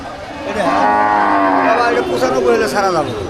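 A dairy cow moos loudly and close at a village cattle market in the Mymensingh division, one long drawn-out call rising and falling for several seconds.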